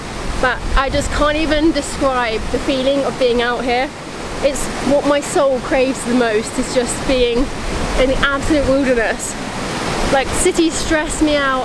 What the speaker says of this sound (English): because obviously I have a waterfall behind me